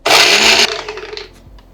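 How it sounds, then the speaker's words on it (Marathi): Mixer grinder whirring loudly as it blends garlic, green chillies, salt and coriander into a dry chutney without water, a dense burst that cuts out abruptly and leaves a fading rattle. "झाकण लावायचं आणि मिक्सरला डुरकन फिरवायचं"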